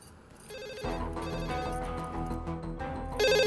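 A landline telephone rings indoors with a loud, repeating electronic trill that grows louder near the end, heard alone without talk.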